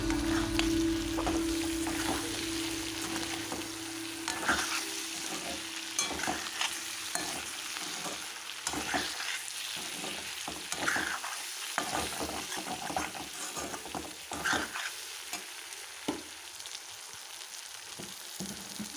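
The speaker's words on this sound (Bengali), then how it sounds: "আমি জিরের গুঁড়ো দেওয়ার পর একটু নেড়েচেড়ে" Steady sizzling of vegetables frying in a pan with cumin powder, with repeated scraping and clacking of a spatula as it's stirred.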